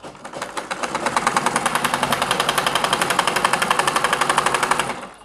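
A sewing machine top-stitching the back panel of a pair of trousers, running in a fast, even, rapid-fire rattle of needle strokes that starts up, holds steady for several seconds and then stops.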